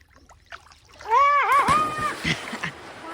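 A sudden splash into water, loud and close, with excited voices shouting around it and water still sloshing afterward.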